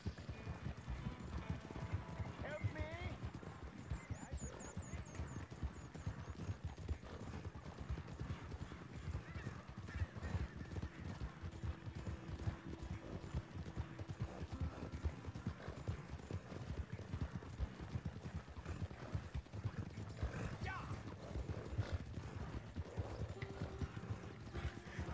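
Ardennes and Andalusian horses gallop side by side in the Red Dead Redemption 2 video game, with steady, rapid hoofbeats drumming throughout and an occasional whinny over the pounding rhythm.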